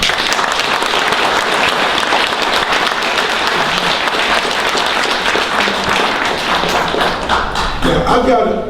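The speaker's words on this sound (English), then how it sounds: "let's applaud you all" A dinner crowd at a 2015 Freedom Dinner breaks into sustained applause, dense steady clapping that fills the room at high level for most of the stretch, thinning near the end as a voice begins to speak.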